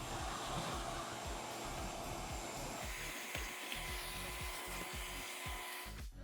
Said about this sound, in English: So we're gonna vacuum this all up